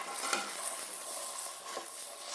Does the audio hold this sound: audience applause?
no